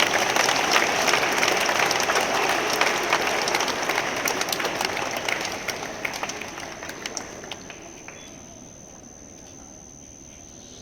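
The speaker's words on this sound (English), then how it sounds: "Clap for all these boys and girls" School assembly audience applauding student dancers, dense clapping from many children that stays strong for several seconds, then gradually thins and fades to a quiet room.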